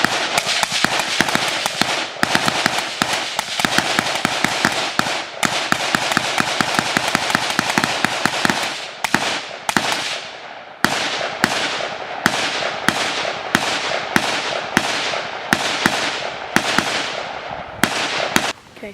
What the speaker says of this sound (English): a bunch of people shooting